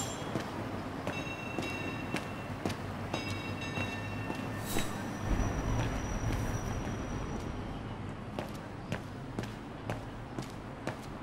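Steady rumbling clatter of a tram ride in the game Syberia: The World Before, a continuous rolling drone with scattered metallic clicks and knocks throughout, moderately loud with no voices.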